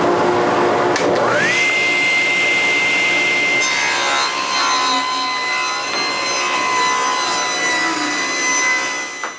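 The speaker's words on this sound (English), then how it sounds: "Now all I need to do is cut them at that angle." A power saw with its blade set to an angle spins up and cuts through wooden boards for a standing desk, a steady close, loud whining rasp that holds through the cut with no talking.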